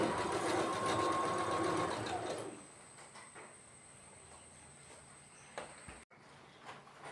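A sewing machine runs steadily for about two seconds while stitching a nightie, then stops; softer handling noises and a brief clatter follow.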